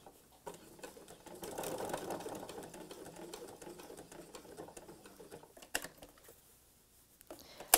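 A sewing machine stitches close to the edge of a cathedral window patriotic pillow, its soft, rapid whir running steadily and close by, slowing and pausing briefly toward the end.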